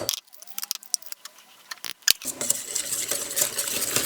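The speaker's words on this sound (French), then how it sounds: "nous allons mélanger les œufs avec le sucre." Eggs and sugar being mixed energetically in a bowl for Nutella and coconut muffins, a utensil clinking and scraping against the bowl in quick irregular strokes, growing busier and steadier toward the end.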